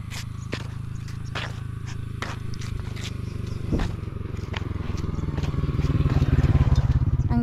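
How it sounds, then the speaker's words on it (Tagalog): Motorcycles pass along a road near a busy market on a cloudy day, a steady engine drone that swells toward the end, with scattered clatter and occasional nearby voices. "Ayan, maraming motor dadadaan."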